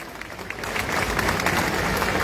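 A crowd of rural workers and union members at a general strike rally claps together in a dense, continuous wash of applause that swells slightly and holds steady.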